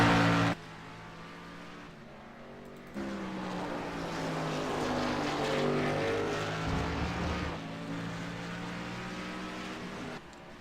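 A race car, the No. 43, drives a track corner loose and carrying a lot of speed, its steady engine drone rising and shifting pitch as it passes, loud and continuous from start to end.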